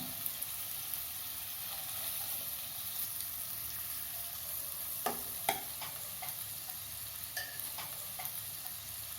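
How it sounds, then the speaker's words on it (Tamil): Eggs fry gently in a pan on a low flame, a quiet steady sizzle with occasional light scrapes and clicks of stirring throughout. "இப்படியே ஒரு நிமிஷம் வதங்கட்டும்."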